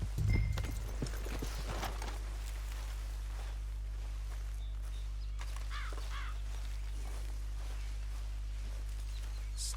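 Horses walking through trees in the Western video game Red Dead Redemption 2, a soft, moderately distant clip-clop of hooves over a steady low hum, with a crow cawing faintly in the background.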